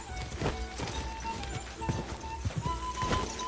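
A horse gallops in the medieval game Kingdom Come Deliverance 2, hooves thudding in a quick uneven rhythm at moderate volume, with faint voices and game ambience underneath.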